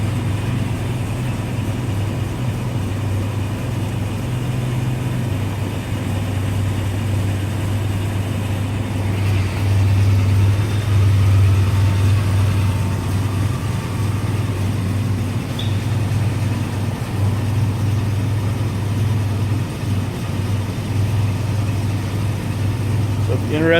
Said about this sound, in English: This thing will sit here and idle all day long.